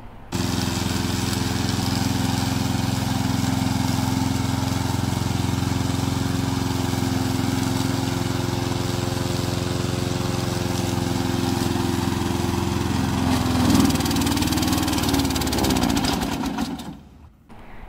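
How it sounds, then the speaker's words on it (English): A Chinese-made remote control petrol lawn mower runs with a steady, droning engine hum that holds constant before cutting off abruptly near the end. "We mainly produce remote control lawn mower in China"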